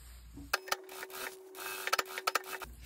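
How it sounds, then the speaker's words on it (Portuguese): A sewing machine stitches around a large pleated fabric bag in a short run, giving a steady mechanical whir with a few sharper clicks and knocks, close and moderately loud, with no talking. "agora eu vou passar uma costura aqui em toda a volta"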